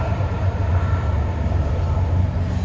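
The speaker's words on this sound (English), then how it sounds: "there's a train coming by right now as well." A SunRail commuter train rolls past nearby in Sanford, Florida, a loud, steady rumble with low rail noise and no voices.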